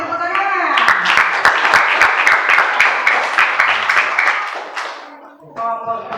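A classroom group claps for its group leader, a loud, rhythmic burst of hand claps that fades after about four seconds, with voices talking over and after it.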